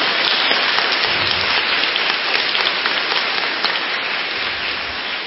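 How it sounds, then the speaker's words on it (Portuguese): Applause during a church sermon in Portuguese: a dense, even wash of clapping that holds steady and close throughout, close to the hiss of rain, with no speech on top. "Pode aplaudir, que lindo, que lindo."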